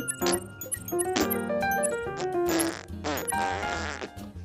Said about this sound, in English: It just farts. You just pick it up, it farts.